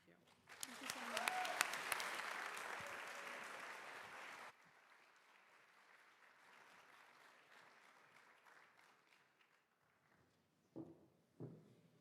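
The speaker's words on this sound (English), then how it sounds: "Let's give one more round of applause for our Leaders Track finalists and judges." An event audience applauds the finalists and judges at a charity challenge finals: a loud burst of clapping that swells and then cuts off abruptly, followed by quieter room noise and a couple of brief knocks near the end.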